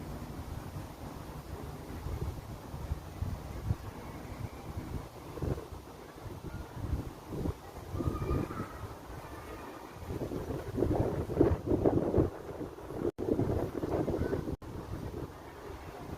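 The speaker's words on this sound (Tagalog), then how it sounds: "Masarap ang simoy ng hangin." An outdoor breeze buffets the microphone in uneven gusts, a low rushing roar that swells and eases, growing stronger toward the end with no talking.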